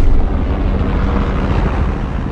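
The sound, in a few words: helicopter landing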